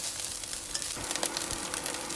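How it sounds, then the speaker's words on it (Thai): Red curry paste sizzles and crackles continuously in hot oil as it is stir-fried in a pan, with occasional scrapes of a utensil, close and steady. "ใส่พริกแกงตามลงไป ผัดให้หอมเลยค่ะ"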